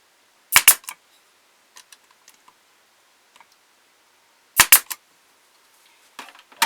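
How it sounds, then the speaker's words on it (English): A staple gun drives staples into a wooden ventriloquist dummy's body part, giving two loud, sharp, snapping shots about four seconds apart, each followed by faint clicks and small handling taps in a quiet room. "I glue it, and then I'm going to put a staple in here."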